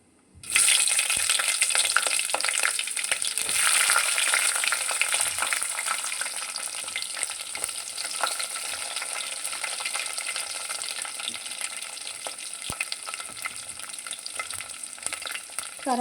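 Onions sizzle steadily in a pan of hot oil for okra rasam, a loud, even broadband frying hiss that holds for the whole stretch with faint scraping, and no talking.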